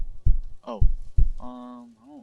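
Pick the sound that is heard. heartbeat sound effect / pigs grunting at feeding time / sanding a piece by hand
heartbeat sound effect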